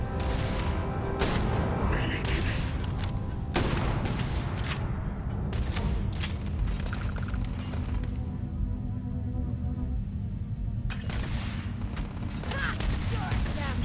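Gunfire strikes an enemy in the space game Starfield, a dense, continuous run of sharp shots and impacts with clanking mechanical noise, loud and close throughout, with occasional talk underneath.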